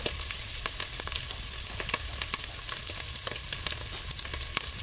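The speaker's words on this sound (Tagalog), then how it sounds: "Ihalo natin ang karne guys." Meat frying for laing, sizzling steadily in a pan while it is stirred, with scattered scrapes and pops over a continuous, fairly loud crackle.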